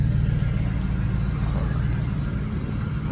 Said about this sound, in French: Rafi va récupérer sa voiture, là. Elle sort